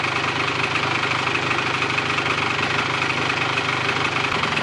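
A Polaris 400L ATV engine runs at a steady idle, a close, constant mechanical drone with a knocking, vibrating rumble and no talk over it.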